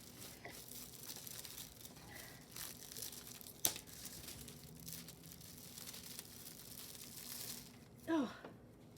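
Aluminium foil pressed and squashed into wet paint gives a quiet, close crinkling and crumpling, soft and scattered, with one sharp crackle partway through and a brief louder rustle near the end.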